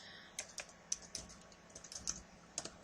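Typing on a computer keyboard for an Excel 2007 spreadsheet edit: a short burst of light, irregular key taps, close and clear over a quiet background, with no talking.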